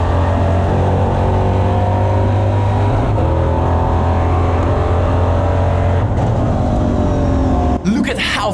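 A EuroNASCAR race car engine drones loudly and steadily through a lap at Brands Hatch in a racing video game, with someone talking over it and a brief shift near the end.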